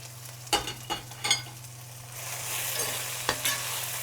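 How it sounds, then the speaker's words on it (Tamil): Ginger garlic paste with spice powders and salt is sautéed for chicken biryani: a few sharp spoon taps and scrapes against the pan, then a steady close sizzle with another knock near the end. "ஸோ இதெல்லாத்தையும் கொஞ்சம் வதக்கிக்கலாம்"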